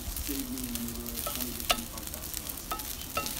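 Fried rice sizzles steadily in a pan over medium to medium-high heat while a utensil stirs and scrapes it, with a few sharp clicks and taps against the pan.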